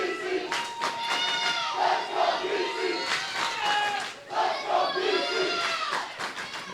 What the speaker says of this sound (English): The Peninsula fans are crowding down by the field cheering.